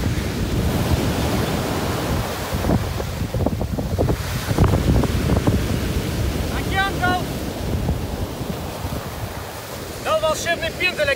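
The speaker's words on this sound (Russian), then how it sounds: "Океан, типа уходите отсюда, купаться хватит, потому что опасно." Rough Atlantic Ocean waves roll and crash continuously at St Helena island under heavy wind buffeting, with brief voices calling out near the end.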